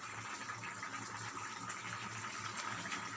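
Potatoes boiling in a pot of water, a steady bubbling and hissing wash of liquid that carries on evenly throughout at a modest level, with no talking.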